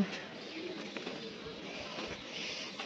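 Soft pigeon cooing on a rooftop in Ishwardi, Bangladesh, faint and distant against a low outdoor hiss, with a few brief murmurs in the background.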